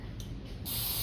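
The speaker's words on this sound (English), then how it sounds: "I'm gonna spray my hands for this video" A quick spritz of cooking spray onto the hands: a brief soft hiss, then a louder sustained burst of spray close by.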